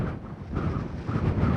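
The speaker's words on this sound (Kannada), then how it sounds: "ಗಾಳಿ ನೋಡು ನೂಗ್ತೈತೆ" Strong wind buffets the microphone on an open hilltop on the Ambajidurga trek, a steady low roaring rush with no pause through the short stretch.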